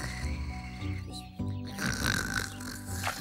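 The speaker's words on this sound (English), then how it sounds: "It sounds like someone snoring." A cartoon character's snoring rumbles in slow, drawn-out breaths over a soft musical backing in a children's animated show about flowertots.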